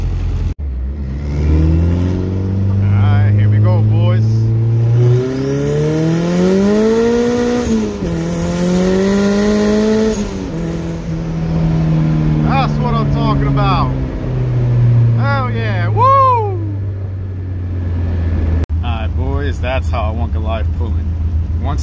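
A turbocharged Honda B20 VTEC EG hatchback accelerates under boost, engine note rising loud and close through the gears with pitch climbing, dipping and climbing again, and a voice talks briefly over it.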